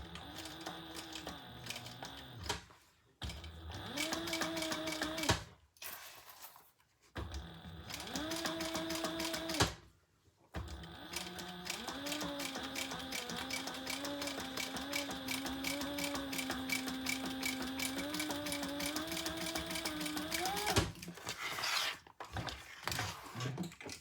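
A sewing machine runs in several bursts of steady mechanical whirring while stitching extra stitches on a crossbody bag, with short silent pauses between runs.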